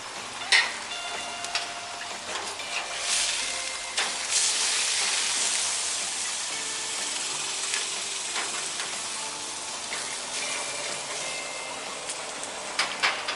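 A stuffed smash burger fries on a griddle, giving a steady close hiss and crackle of sizzling fat with occasional sharp spatula scrapes and pops throughout.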